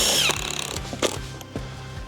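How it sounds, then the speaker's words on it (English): Power drill driving a screw into a metal Melken WeatherGuard frame: short ratcheting whirs in repeated bursts, close and fairly loud, with brief clicking pauses between pulls of the trigger. "put your first screw in. Make sure and drill straight."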